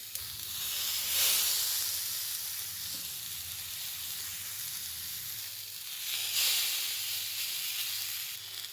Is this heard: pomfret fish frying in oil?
yes